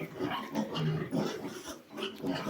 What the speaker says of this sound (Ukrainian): Це є наші свинки